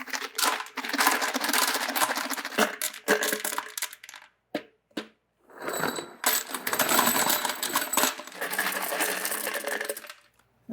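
Ceramic tumbling media poured into a vibratory tumbler, a loud clattering rattle of many small hard pieces in bursts with brief pauses between pours.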